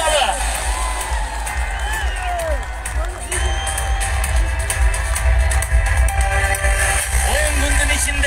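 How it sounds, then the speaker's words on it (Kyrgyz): A crowd at a public meeting in Toktogul cheers, whoops and claps to welcome Sadyr Japarov, a dense, steady roar with shouts rising over it and a speaker's amplified voice cutting through. "Кана кол чабуулар менен Sadır Nurko'yuş Japarovду тосолалы"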